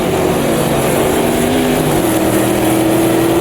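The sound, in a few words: race car engine braking while downshifting, Automobilista 2 video game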